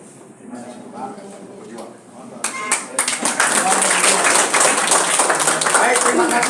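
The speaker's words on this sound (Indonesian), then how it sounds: "Beri tepuk tangan untuk kita semua." A crowd at a political rally starts clapping midway after a stretch of murmuring voices, and the applause quickly swells into loud, dense, sustained clapping that fills the rest of the clip.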